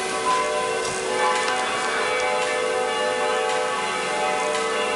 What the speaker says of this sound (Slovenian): Slišimo zvonove